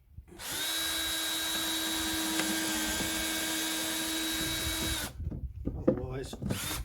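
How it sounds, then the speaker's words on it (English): A power drill boring pilot holes in wood for a five-frame beehive nuc box: one close, loud, steady whine lasting about four seconds, then stopping abruptly, followed by brief handling clatter and a voice. "Always drill pilot holes."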